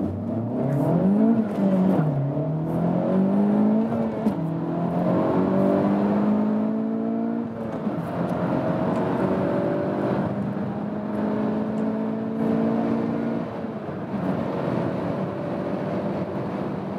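A 2-liter front-wheel-drive Honda Civic Type R engine revs hard and climbs in pitch through the gears, with a steady rising drone heard from inside the cabin.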